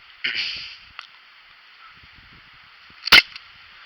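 A Daisy Powerline 5501 air gun fires a single sharp, loud crack near the end, preceded by a softer hiss-like burst and a faint click; the rest is quiet with faint rustles outdoors on wet ground.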